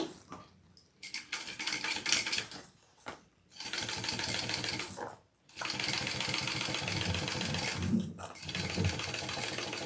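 A sewing machine top-stitches through the base of a backpack in steady, close bursts of rapid stitching, broken by a few short pauses.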